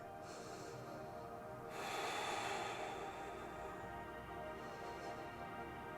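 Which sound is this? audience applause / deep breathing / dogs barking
deep breathing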